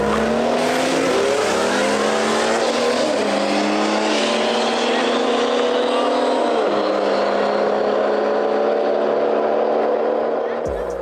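A BMW F30 340i launches hard down a drag strip, its engine note climbing in rising sweeps through several upshifts. The car is loud and close throughout, and a light tire squeal sits under the roar.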